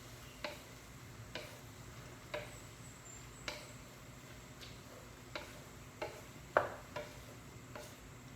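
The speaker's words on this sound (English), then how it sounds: "So I have to stir it." Jackfruit jam boiling in a pot and being stirred, giving a steady low bubbling bed broken by regular soft scraping strokes about once a second, with one louder knock near the end.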